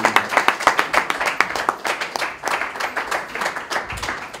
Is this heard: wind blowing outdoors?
no